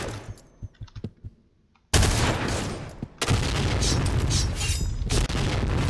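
Noveske N4 rifle firing in the video game Point Blank: loud, sustained automatic bursts, with a few faint pops first, a brief pause near the middle, then dense continuous gunfire to the end.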